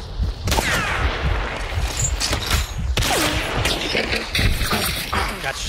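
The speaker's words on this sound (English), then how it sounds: "Machine gun havoc." Machine gun fire in the Hunt: Showdown video game, loud rapid bursts of automatic gunfire with sharp cracks scattered through, close and continuous over a noisy game backdrop.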